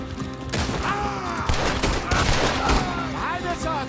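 Gunfire rattles through a Red Dead Redemption 2 shootout, dense overlapping shots and thuds popping in rapid bursts over loud game music, with voices shouting through the chaos.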